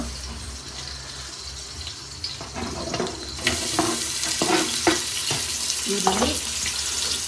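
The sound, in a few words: onion frying in ghee for tempering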